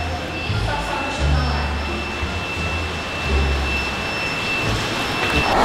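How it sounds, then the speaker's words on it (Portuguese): Steady heavy rain pours down in a continuous hiss, with low rumbling underneath and no clear voices. "Olha como é que tá chovendo"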